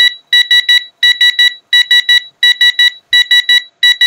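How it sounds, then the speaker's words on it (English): Repeated bursts of beeping from an automatic gas switch-off alarm paired with a pressure cooker whistle counter, loud and close, in groups of three to four electronic tones with short gaps, no talking. "An alarm has been started."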